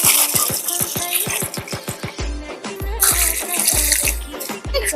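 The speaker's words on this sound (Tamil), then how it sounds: "2 செடிக்கும் தண்ணி ஊற்றிக்கலாம்." Water poured onto newly planted bush pepper and cardamom plants, a run of rapid splashing and trickling bursts, close and fairly loud, with no talk.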